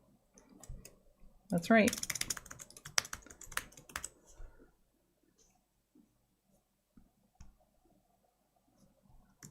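Fast bursts of clicking keys on a computer keyboard at a desk, clustered in the first few seconds, then sparse taps with a brief spoken reply.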